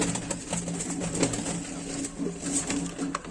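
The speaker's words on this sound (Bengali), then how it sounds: "এখন যে পেয়ারটি দেখাচ্ছি এটা হচ্ছে আমাদের ফার্মের দেশি কবুতর" Pigeons coo softly at a pigeon farm, a low, repeated murmur of calls mixed with light rustling and clicks in the pens.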